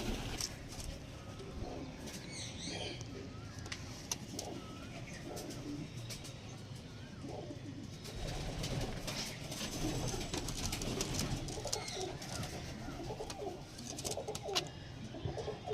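Tournament pigeons coo softly and repeatedly in a loft amid continuous background bustle, with faint voices and scattered clattering throughout.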